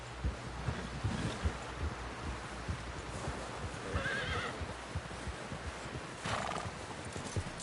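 Horse hooves clip-clop steadily with a neigh and whinny in the game Red Dead Redemption 2, close and clear over light wind, with no talk.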